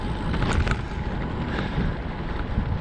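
Wind roars across the microphone of a touring bicycle ridden fast on a straight road near Lehrte, Germany, with a south wind. The low rumbling buffeting is continuous and swells slightly in gusts, with no talking.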